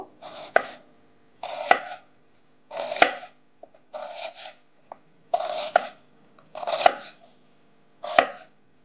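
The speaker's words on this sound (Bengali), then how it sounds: "এখন আমরা একটু মোটা করে পেঁয়াজ কাটবো" Onions being cut thickly with a knife for Mughlai beef fry, seven crisp, evenly spaced slicing strokes, each a short scrape ending in a sharp tap on the board, close and clear with no talking.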